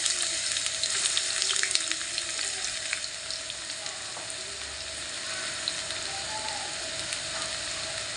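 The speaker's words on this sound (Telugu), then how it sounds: "ఉల్లిపాయ వేస్తాను ఫ్రెండ్స్." Small onions sizzle and fry steadily in a hot pan, a continuous close hiss of frying with no speech over it.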